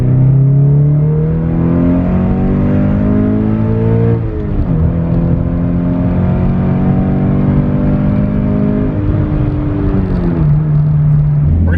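A Toyota GT86 / Subaru BRZ with a catted header makes a loud full-throttle second-gear pull from about 2,500 RPM, its engine rising steadily in pitch with a brief dip before climbing again, heard from inside the car.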